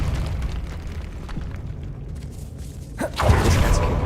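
A Depulso repelling spell cast in the Hogwarts Legacy video game, heard as a low rumbling burst that swells near the end after a quieter stretch of ambient game noise.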